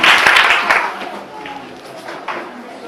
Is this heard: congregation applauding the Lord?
yes